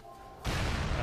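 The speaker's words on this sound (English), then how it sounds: "And there's the explosion." A trip mine detonates in Halo: Reach, a sudden loud blast that bursts in after a quiet stretch and roars on as a dense, sustained rumble to the end.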